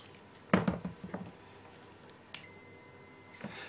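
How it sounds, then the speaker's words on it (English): A Fluke multimeter on continuity test gives a faint, short electronic beep after a few soft handling clicks and taps, in a quiet room. "I've got me beeps."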